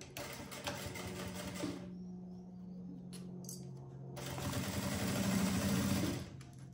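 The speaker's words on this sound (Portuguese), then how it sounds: "Passo aqui a costura." A sewing machine stitches the lining of a luxury cosmetic bag in a close, rapid burst, pauses for a couple of seconds, then runs again louder before stopping.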